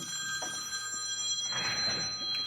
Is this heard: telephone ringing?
yes